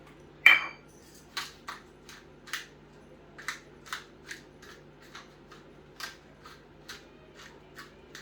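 Black pepper ground over dinner with a hand mill, a series of short, dry gritty crunches in an uneven rhythm, close and fairly quiet over a low steady hum, with no talking.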